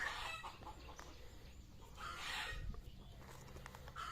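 Chickens cluck faintly in the distance against a steady background hiss, with a few scattered calls over several seconds.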